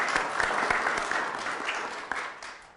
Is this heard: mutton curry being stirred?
no